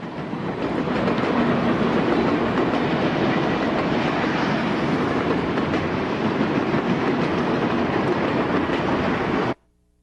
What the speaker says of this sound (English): Union Pacific 844 is heading down the joint line with the Royal Gorge Steam Special.